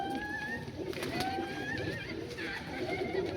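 A male and female Malwai pigeon pair, competition flyers, give soft, close coos over a steady background hum, with faint talking alongside.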